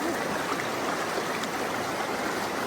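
A strong river current rushes over slippery rocks, a steady, dense roar of flowing water close by, unbroken and even throughout with no voices.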